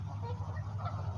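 Ducks on the Columbia River in Oregon, honking and clucking in a steady, continuous flock chorus close by, with no talking.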